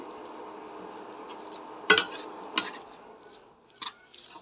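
A spoon scrapes and knocks against a pan while pitha filling is stirred and mixed, giving a soft, textured rustle broken by several sharp metallic clinks.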